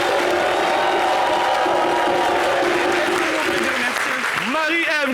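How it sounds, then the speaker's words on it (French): A television studio audience gives guests a thunderous ovation, loud continuous clapping mixed with crowd cheering and whoops, with a rising shout near the end. "Et un véritable tonnerre d'applaudissements pour nos invités."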